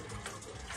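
Water gushes steadily from a tap into a filling container outdoors in a rural province. The rushing sound is continuous and close, with no voices.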